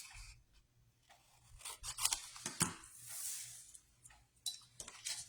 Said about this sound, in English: I just cut straight across.